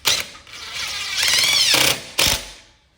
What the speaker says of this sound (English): this is a 20 volt professional DeWalt drill